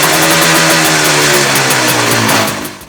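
A motorcycle engine running with whipped cream sprayed into it, loud and close, a rough steady drone with rapid pulsing that rises slightly in pitch, then fades out at the end.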